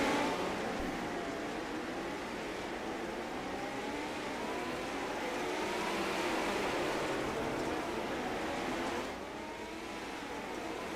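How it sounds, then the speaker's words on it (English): Midget race cars in a sim racing game at the Chili Bowl, a pack roaring through turns together, a dense continuous engine drone with rising and falling pitches that eases slightly near the end. "Gaggle of race cars through turns 3 and 4."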